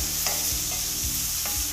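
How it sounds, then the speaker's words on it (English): Bacon fat rendering in a pan, a steady close sizzle and crackle with a few faint stirring scrapes, no talk. "I just want to get some of that fat rendered down."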